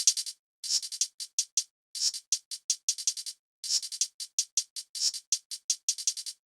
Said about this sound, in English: And all 3 hi-hats together sound like this.